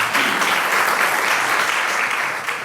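A congregation at a church testimony concert claps as a guest professor comes forward. The applause is dense and continuous, loud and close throughout, and no one speaks over it.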